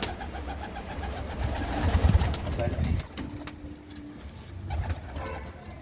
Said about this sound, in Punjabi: ਇਹ ਕਬੂਤਰੀ ਹੈ ਕਬੂਤਰ ਇਹਦੇ ਨਾਲ ਦੀ ਕਬੂਤਰੀ ਆ